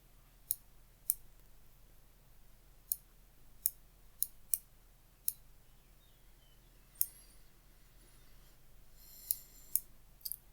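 Sharp computer mouse clicks while using Rhino 3D modelling software, about a dozen isolated crisp clicks spaced irregularly over quiet room tone, a few in quick pairs, close and clear.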